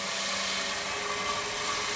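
A wood lathe spins a rook chess piece being polished with a sanding compound, giving a steady, even whirring hum with a faint high whine, constant for two seconds and without talk.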